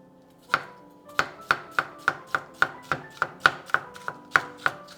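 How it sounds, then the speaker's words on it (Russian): A knife chops fresh cucumbers into rough pieces on a board for a summer soup, steady sharp taps repeating about twice a second, close and clear with no voices. "Так же, как и помидоры, ароматные огурцы нарезаем произвольно."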